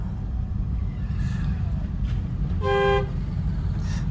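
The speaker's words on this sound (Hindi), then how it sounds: "लॉन्ग हॉर्न पुश करो।" A car horn sounds once in a short sustained honk during a driving lesson, cutting over a constant low engine rumble, with fainter tones before and after.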